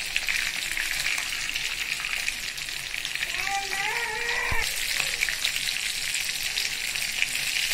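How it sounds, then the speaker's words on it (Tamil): Fish fries in a pan with a dense, continuous hiss and crackle, loud and close, while a brief clatter and a short tonal squeak rise midway through. "இந்த மீன் நல்லா வறுத்துட்டு இதை நான் இப்போ எடுத்துக்கிறேன்."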